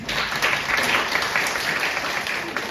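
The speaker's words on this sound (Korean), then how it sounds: "지금까지 실습 사례에 대하여 발표해주신 모든 분들께 박수 부탁드립니다." Applause fills a lecture hall at a university early childhood education practicum review session after student presentations, a broad, sustained clapping from the seated audience at even loudness throughout.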